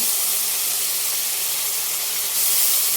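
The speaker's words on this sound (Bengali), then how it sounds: "ডালটা এবার কড়াই এভাবে দিয়ে দেবো" Washed lentils tipped into a hot kadai hiss with a loud, steady sizzle that holds for the whole stretch and swells slightly near the end, with no talking over it.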